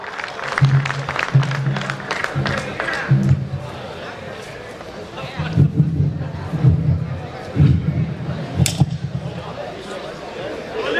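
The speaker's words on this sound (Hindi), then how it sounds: "एक बार तालियां बजा करके अभिनंदन करें" Audience applause and cheering at an outdoor Hindi poetry gathering in Singrauli, bursts of clapping and crowd shouts that rise and fall in waves, mixed with voices.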